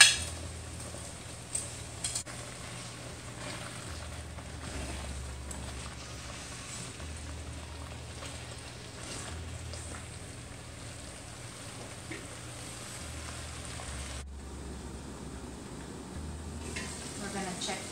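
Meatballs going into pasta sauce in a pan for spaghetti and meatballs, a soft continuous sizzle and bubbling with faint stirring and utensil contact, quiet throughout and without any talking.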